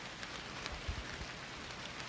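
Light rain falls on surfaces at a campsite, a soft, steady patter with scattered drop hits, faint and continuous with no talk.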